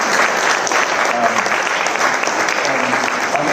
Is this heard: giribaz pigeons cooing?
no